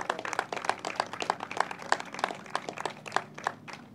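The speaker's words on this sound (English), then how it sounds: "Let's give him a round of applause" Audience at a governor's announcement on habitat and water restoration clapping in a sparse, uneven round of individual hand claps, moderately close and fairly quiet, with no talking.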